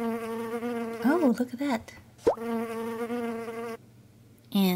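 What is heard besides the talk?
buzzing bees thrown in Roblox Miraculous game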